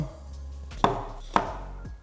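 Two sharp knife chops through a bell pepper on a cutting board about half a second apart, close and clear, with a faint third tap near the end.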